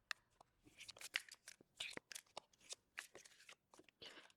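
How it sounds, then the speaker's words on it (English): Riffle shuffling of a Dark Synevyr playing card deck with some cards of uneven length, heard as a close run of crisp, rapid card-flicking bursts in several separate passes, with no talking. "So it's kind of getting caught when you try to like riffle shuffle."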